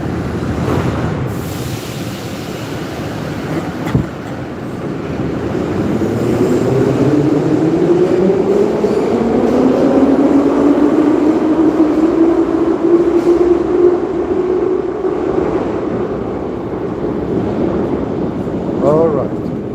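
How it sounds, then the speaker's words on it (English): A train rumbles past outdoors, its low roar swelling and fading over several seconds with a rising then falling tonal whine and steady rail noise, close and fairly loud with wind buffeting the microphone. "The train is gone."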